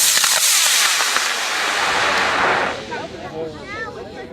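Loud roaring rush of a model rocket launching, a sustained burst that fades after a few seconds as the rocket climbs away, with people talking and whistling afterward.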